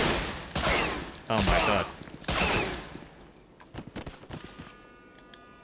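Bursts of gunfire from the World War II shooter game Medal of Honor Frontline: three loud sustained volleys, then scattered sharper single shots tapering off, with a brief exclamation from a player over the end.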